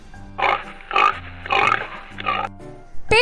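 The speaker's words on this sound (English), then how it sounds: "Pig." A farm pig on a domestic animals sound reel gives four loud, close grunting oinks in a steady rhythm, with a short snort at the end and no talking.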